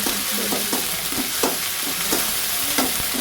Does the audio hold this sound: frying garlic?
yes